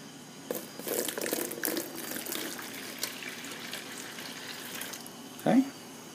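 Water poured into a bowl holding two packets of active dry yeast while making homemade zeppole dough: a soft, steady splash and trickle that builds briefly and ends with a short, louder spill.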